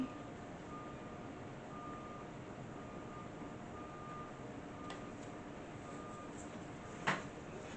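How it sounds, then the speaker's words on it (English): A truck's reversing alarm sounds in a slow, regular series of beeps, faint and distant over steady background hum, with a brief louder knock near the end. "there's like a truck beeping"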